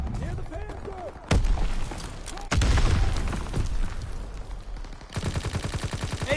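Gunfire in a video game battle comes as two loud sudden blasts followed by rapid rhythmic automatic fire near the end, with chaotic clatter and a voice talking underneath.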